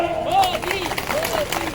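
An audience at a beneficiary gathering in Chanderi claps together in a brief, steady burst of applause, mixed with crowd noise, while a voice carries on speaking over it.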